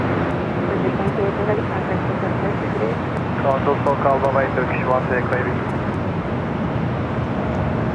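Airliner arriving at LAX from Boston, a broad, steady jet roar that swells slightly partway through, while a voice talks over it.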